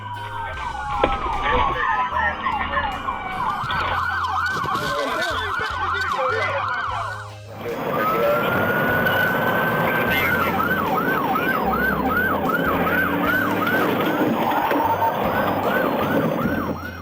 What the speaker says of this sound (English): A deputy quickly lit up his sirens and gave chase